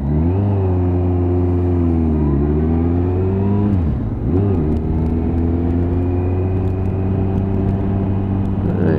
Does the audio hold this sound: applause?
no